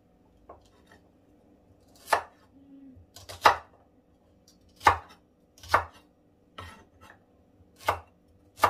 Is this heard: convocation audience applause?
no